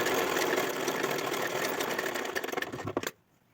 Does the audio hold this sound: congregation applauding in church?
no